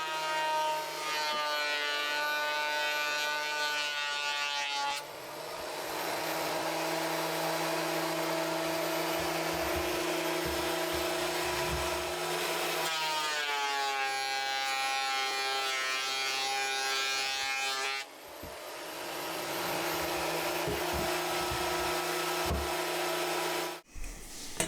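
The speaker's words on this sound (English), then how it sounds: "So this planer won't hopefully break these." A wood planer runs steadily while planing boards for a DIY table top, a loud continuous whine with short breaks between passes around five, thirteen and eighteen seconds and a brief stop near the end.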